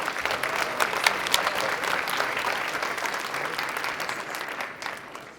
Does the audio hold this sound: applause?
yes